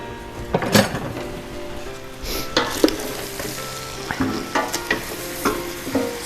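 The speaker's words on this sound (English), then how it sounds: "Mix this up a little bit" A big spoon stirs homemade chicken soup stock with bay leaves in a pot, giving a few soft clinks and scrapes over a steady low simmering hiss, close and fairly quiet.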